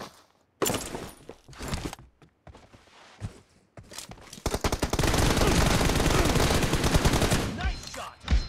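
M416 rifle fire in PUBG Mobile: scattered single shots early on, then a loud, sustained run of rapid automatic bursts, with a few footsteps between them.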